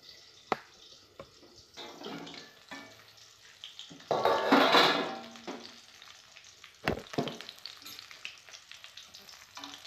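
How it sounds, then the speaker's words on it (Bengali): Katla fish fries in a pan on a gas stove: a low, quiet sizzle with scattered clinks and scrapes, swelling into a louder spitting burst for about a second before settling back. "মাছটা ভাজা হয়ে গেছে"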